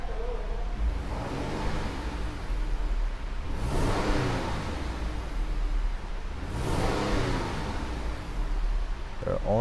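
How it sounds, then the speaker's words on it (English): A 2014 Jeep Grand Cherokee with a P0020 camshaft fault idles, then its engine swells in two rising revs over a steady, moderately loud background. "I'm going to step on the gas a little bit."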